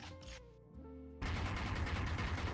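Gunfire from the ORIGIN skin bundle in the video game Valorant: after brief equip and handling tones, a loud, sustained burst of rapid automatic shots runs continuously to the end.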